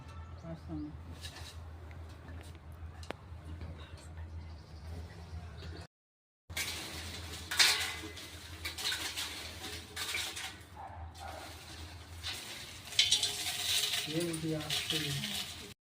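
Whole Chettinad masala spices tipped into a dry pan for roasting, a scatter of small hard bits rattling and clinking against metal in a few bursts, with quieter scraping between and a short silent gap.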